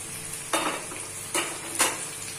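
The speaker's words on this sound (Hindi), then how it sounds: "भिंडी और प्याज लगभग रोस्ट हो गया है" Okra and onions roasting in a pan, a soft steady sizzle broken by three brief scraping stirs of a utensil, fairly quiet and with no talking.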